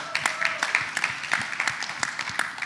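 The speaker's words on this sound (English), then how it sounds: "So give yourselves a round of applause." Scattered, moderately faint clapping from an audience at a New Orleans city event, individual claps audible in an uneven rhythm rather than a full roar.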